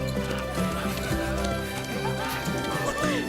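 Horses gallop across a ranch in a Disney Dreamlight Valley video game trailer, with steady clip-clop hoofbeats and a brief whinny layered under bright music and voices.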